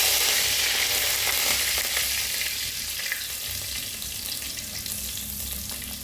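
Curry leaves hit hot oil in a pan while making a Kerala-style leafy thoran, giving a loud, steady crackling sizzle that holds for the full stretch and eases slightly toward the end, with no voices.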